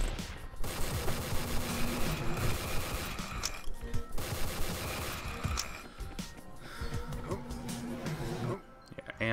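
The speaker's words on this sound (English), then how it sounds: "Alright, back to machine gun, because I got tons of ammo for that now." Sustained, rapid machine gun fire in the Rework The Dead: Evil video game, loud and near, running in long rattling bursts with brief breaks, with some talk over it.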